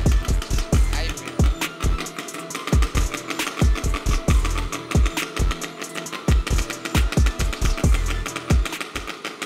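Homemade motorized bicycle engine with a gutted muffler, running with a rapid, uneven popping exhaust beat that throbs loud and close, alone without talk.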